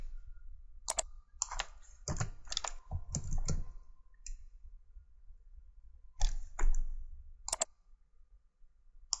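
A computer keyboard is typed on in short bursts of sharp clicks separated by quiet gaps, close up and fairly clear, with no talk.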